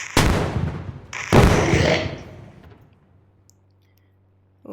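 Two heavy bomb blasts in a zombie war video game, each a sharp loud burst followed by a long rumbling decay that fades into near silence.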